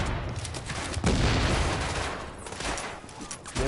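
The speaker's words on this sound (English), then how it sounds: "Grenade." A grenade explodes in the video game The Division amid a dense, continuous burst of loud gunfire and booming blasts that fill the whole short stretch without pause.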